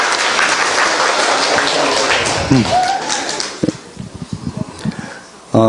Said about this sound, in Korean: 격려의 박수 한번 부탁드리겠습니다